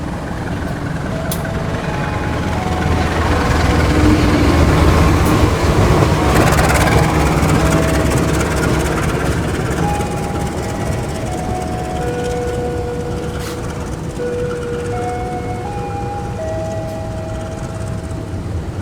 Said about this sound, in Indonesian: ini dia kereta api Serayu telah tiba dan berhenti di jalur 1 stasiun Banjar